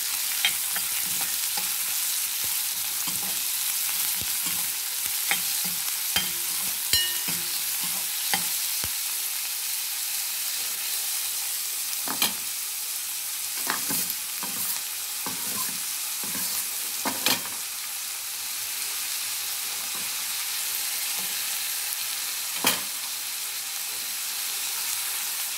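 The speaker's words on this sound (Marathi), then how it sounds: "आणि एक मोठा कांदा, चांगला मऊ होईपर्यंत परतायचा।" A large onion sautéing in a pan until soft while cooking a vegetable dish, giving a steady sizzle and hiss throughout with occasional scrapes and taps of a spoon stirring.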